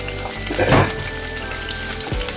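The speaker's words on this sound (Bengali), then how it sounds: "পেঁয়াজগুলোকে হালকা করে ভেজে নিব" A large onion fried in a little oil in a pan for an egg and eggplant dish, giving a steady broadband sizzle throughout with a brief louder crackle burst near the start.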